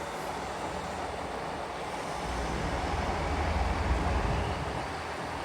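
A Class 158 diesel train rolls through Carlisle station, a low steady rumble that swells gradually over a few seconds, heard from the platform with broadband wind-like noise and no talking.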